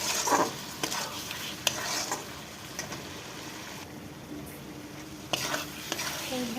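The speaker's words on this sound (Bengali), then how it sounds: "লবণটা দিয়ে আমি কষিয়ে নিচ্ছি বন্ধুরা।" Fish curry masala with salt being sautéed in a pan for a Bengali fish curry: a steady sizzle runs throughout, broken by sharp, close scrapes and clinks of a spatula stirring against the pan.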